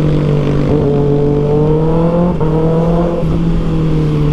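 A 2024 Kawasaki Ninja ZX-6R engine runs loud and close, holding a steady high-pitched whine with slight pitch shifts and a brief throttle blip partway through.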